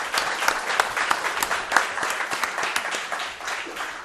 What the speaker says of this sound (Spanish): Os pido un aplauso para estos dos señores que llegan de Tenerife a nuestro programa.